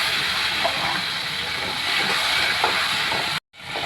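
Small tomatoes fry into a gravy-like base for hotel-style biryani, giving a continuous dense hiss and sizzle at steady loudness with faint stir clicks, broken by a brief dropout near the end.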